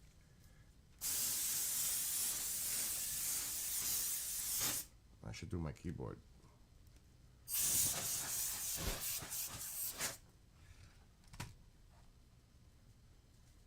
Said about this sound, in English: That's the air spray. That shit gets really cold.